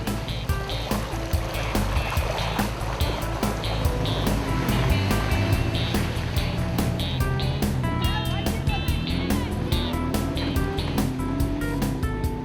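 A trusty Toyota Hilux pushing through a water crossing on the old Telegraph Track, with a steady engine drone and continuous sloshing, splashing water, close and loud, while voices talk over it.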